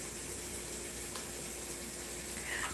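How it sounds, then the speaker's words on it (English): Water streams steadily from a tap into a sink, a continuous hiss of moderate loudness with no voices over it. "let me turn the water off"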